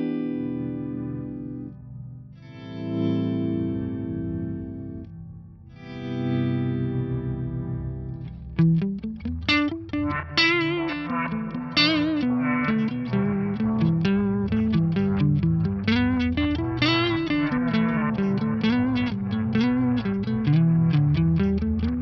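Synth or guitar notes first ring out cleanly, then a shimmering, pitched-down echo effect layers over a busier repeating melody, sustained and reverberant.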